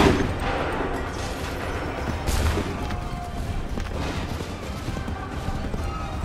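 A volley of gunfire rings out in a battle game, several overlapping sharp reports and crashes amid a noisy, distant-sounding battlefield roar.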